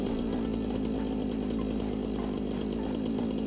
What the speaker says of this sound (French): le bruit de la tronçonneuse